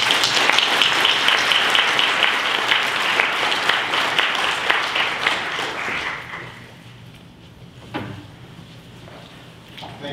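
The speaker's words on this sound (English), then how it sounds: "Please join me in a round of applause for Professor Robert Guralnick" An audience at a mathematics congress lecture applauds the invited professor, loud sustained clapping that tapers off after about six seconds into quiet room noise with a few stray knocks.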